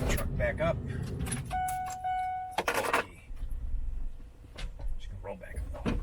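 A truck's electric power window rolls up with a steady motor whine lasting about a second, near and fairly loud, surrounded by clunks and rustling from work on the dash.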